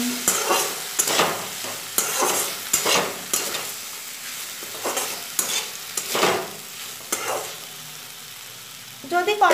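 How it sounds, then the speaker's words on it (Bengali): Potatoes and bitter gourd stir-fried with spices in a Bengali kitchen: a spatula scrapes and stirs the pan in repeated strokes over a steady close sizzle, with no talking. "উস্তের আলুটাকে এবার মশলার সাথে ভালো মতো কষিয়ে নেব"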